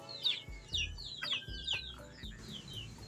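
Chickens clucking close by near a road while being fed, a steady run of short clucks and squawky calls with some scratching and thumps underneath.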